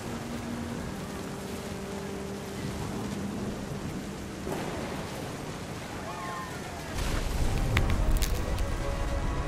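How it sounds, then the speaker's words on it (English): Thunderstorm in the video game What Remains of Edith Finch, with steady rain hiss and low rolling thunder throughout, swelling louder near the end. "The thunder sounded much too close and full of angry power."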